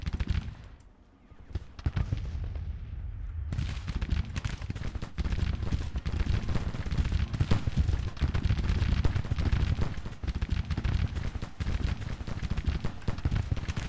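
Civil War-era artillery and massed musketry rumble in Grand Tactician: The Civil War, a dense continuous barrage of low booming cannon shots and crackling rifle volleys, loud and sustained after a brief quieter opening.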